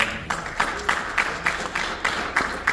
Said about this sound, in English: can we get a hand clap for that?